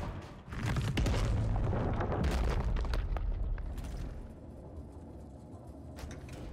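A grenade blast in the video game Scorn, a heavy booming explosion that rumbles loudly for a few seconds and then fades into a lower lingering roar with scattered crackles, without talking.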